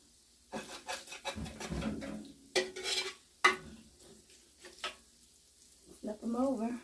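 Homemade burgers being turned over in a pan with a spatula, giving a run of close scrapes, knocks and clatter with a faint sizzle between bursts.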